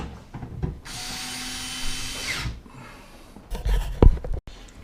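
A power screwdriver drives screws into a tumble dryer's metal backing plate, a close whirring burst of about a second and a half followed by clunks and handling knocks.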